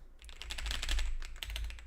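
Fast, clattering keystrokes on a computer keyboard, a short burst of close, dense typing with no voices.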